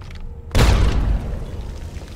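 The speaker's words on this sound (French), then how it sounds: "Ouais, c'est des grenades." A grenade trap goes off in Fallout 3, a single loud booming blast that bursts in suddenly after a near-silent moment, then rumbles and decays over about a second under a low noisy tail.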